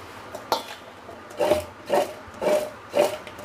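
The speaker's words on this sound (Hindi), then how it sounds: "उसमें आम ट्रांसफ़र कर लेंगे इसमें एक खाने का चम्मच हल्दी पाउडर डालेंगे और दो बड़े चम्मच नमक डालेंगे इसे अच्छी तरह से मिक्स कर लेंगे" Raw mango pieces being tossed by hand with turmeric powder and salt for mango pickle, giving a few rhythmic wet rubbing and scraping bursts about every half second, fairly close with no talking.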